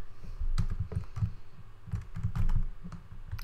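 Slow, uneven typing on a computer keyboard, soft clicks in two short bursts with pauses between, close and fairly quiet.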